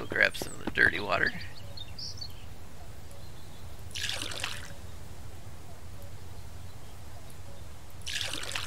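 Dirty water is scooped into a bucket in the Mist Survival video game, giving two brief splashy sloshes several seconds apart, while light bird chirps sound at the start over a faint outdoor ambience.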